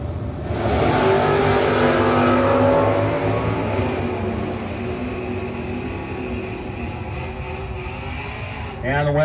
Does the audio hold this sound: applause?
no